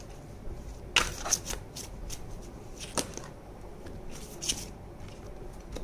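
Tarot cards shuffled by hand, soft papery riffles and slaps in a few brief bursts, quiet and close against a low room hum.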